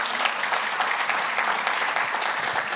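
A church congregation applauds the Lord, a steady, dense wash of clapping from many hands that fills the room for a few seconds without pause.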